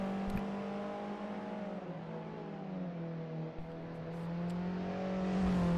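A Caterham race car at Snetterton circuit drives steadily past with a loud, sustained engine drone whose pitch rises and falls slightly through a corner, rising toward the end, with no talk.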